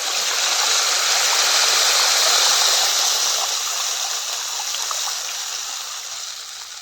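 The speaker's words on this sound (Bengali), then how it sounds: "তেঁতুলটা ফুটতে জল দিতে হবে" Water poured steadily into a pot of boiling tamarind for a traditional Medinipur-style sour small-fish dish, a continuous close rushing stream that tapers slightly toward the end, with no talking.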